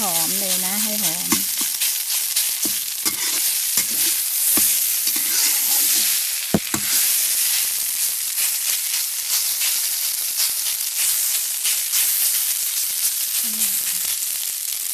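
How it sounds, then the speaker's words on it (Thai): Rice stir-fried with garlic oil in a pan gives a steady, loud sizzle and hiss throughout, with scraping stir strokes and a sharp clack near the middle; a voice speaks briefly at the start and again near the end. "ผัดข้าวกับน้ำมันกระเทียมนะคะให้หอมเลย"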